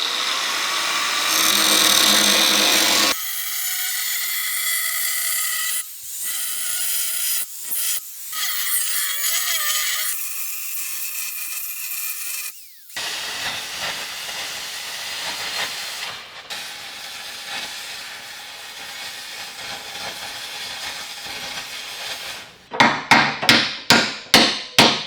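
Cutoff wheel grinding through an old weld repair, a harsh hissing whine in long bursts broken by short pauses, then a quieter stretch and a final run of rapid clanks, close by.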